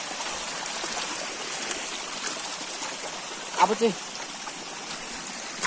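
A flowing mountain stream gives a steady trickling, splashing rush from close by, while a voice speaks briefly over it.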